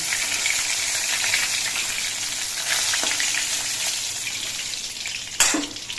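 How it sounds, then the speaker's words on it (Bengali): Rohu fish pieces frying in hot oil give a steady, close sizzle with a sharp crackle and spatter near the end, no voices. "বাকি মাছগুলো ভেজে নিচ্ছি"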